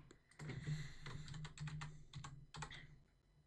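Fingers tap out a search on a computer keyboard into an in-game item list: quiet, close clusters of quick keystrokes with short pauses between bursts and no voices.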